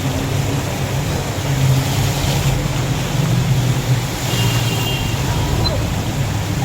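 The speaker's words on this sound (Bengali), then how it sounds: "মনে হচ্ছে আমরা পুকুর দিয়ে যাচ্ছি টোটো চালিয়ে।" A battery e-rickshaw (toto) rolls through a rain-flooded street, giving a steady wash of splashing, churning water with a low hum and road rumble that stays even throughout, no voices over it.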